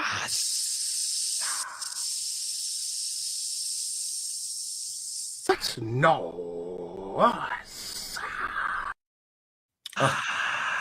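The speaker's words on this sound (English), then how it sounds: "Kind of like a bunch of steam escaping." A loud, steady hiss like steam escaping runs for about five seconds, then gives way to a warbling, voice-like sound and further bursts of hissing before ending abruptly.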